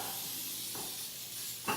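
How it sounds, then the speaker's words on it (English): Cooking spray hisses steadily from an aerosol can onto a baking pan readied for coffee cake, a soft continuous spray lasting nearly two seconds with a faint clunk at the end. "I'm gonna just spray my pan right now"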